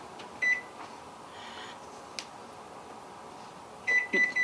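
Kitchen oven being switched on for sugar cookies: a short electronic beep, a few faint clicks and a soft hum, then a run of three quick beeps near the end.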